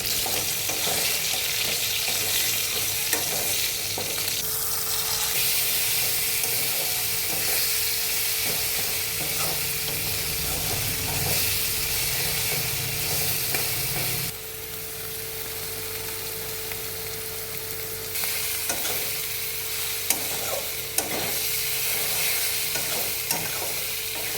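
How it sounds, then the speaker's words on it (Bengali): Eggplant is stirred with ginger paste and onion paste in a hot pan, giving a continuous close sizzle with frequent scraping and clinking stirs, loud and steady throughout. "আর এবার এই আদা বাটা পেঁয়াজ বাটা দেবো আর বেগুনটাও দিয়ে দেবো দিয়ে সব কিছু একবারে মাখা মাখা করে নেব"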